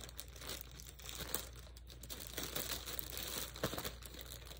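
Plastic bag packaging from a bulk online-shopping haul crinkles and crunches close by in steady handling bursts, with brief tearing-like rustles and no talk.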